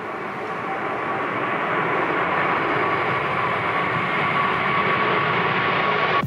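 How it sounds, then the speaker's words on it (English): An Airbus A380 takes off through snow, its engines building into a loud, steady broadband roar with a faint tonal whine that lasts until an abrupt cutoff. "This A380 taking off with snow spraying behind it"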